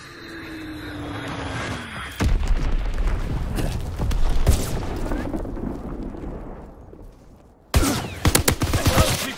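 Battlefield gunfire in the World War II video game Call of Duty WWII: rapid bursts and heavy booms crackle close and loud, with a couple of sharp surges of shots among a dense wartime din.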